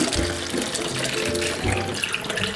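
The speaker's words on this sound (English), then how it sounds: "Put your funnel in there and pour your water in." Water poured through a funnel into a bottle, a steady close splashing and trickling flow that runs continuously throughout with no talk.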